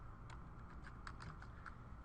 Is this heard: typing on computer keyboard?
yes